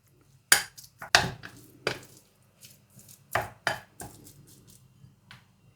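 Cooked rice being mixed with wakame seaweed and white sesame seeds in a bowl, a sequence of irregular dull knocks and scrapes of a utensil, close and distinct with quiet gaps between.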